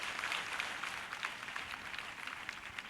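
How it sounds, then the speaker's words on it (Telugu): A church congregation claps in praise during worship, a faint, dense patter of many hands that continues evenly throughout and sounds distant. "గట్టిగా చప్పట్లు ప్రభుని స్తుతించాలి."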